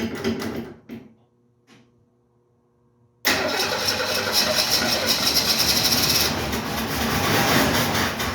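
A 1968 Ford Mustang that has been struggling to start cranks briefly, falls quiet for a few seconds, then catches and runs with a loud, steady, rough engine roar that continues to the end.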